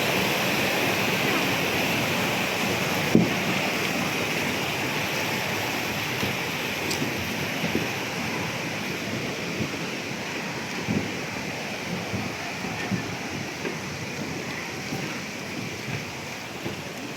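Steady, broad rushing of water pouring down continuously at Kilangin Falls in Majayjay, Laguna, a dense roar heard up close with no pauses.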